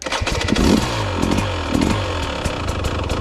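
A KTM 300 TBI motorcycle with the throttle opened is started, giving a loud, close burst of sputtering engine noise that catches and revs briefly, with no talking.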